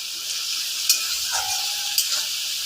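Vegetables coated in salt, turmeric and cumin powder sauté in a pan, a steady close sizzle with two brief stirring scrapes of a spatula.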